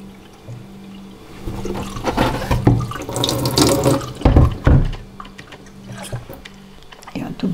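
Filtered water runs from a small tap in a home kitchen during baby-food preparation, splashing in uneven bursts and pauses while a person talks over it.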